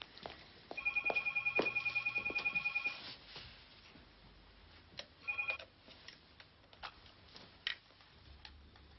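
A telephone rings with an electronic trilling ring, one long burst of rapid pulses followed by a shorter second burst, moderately loud in a quiet room with small knocks and movement sounds around it.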